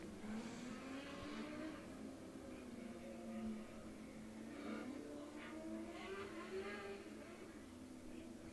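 Restrictor-class race cars rumble around the dirt oval at Coles County Speedway for a 20-lap feature, a steady, moderately distant engine drone with rising and falling revs throughout.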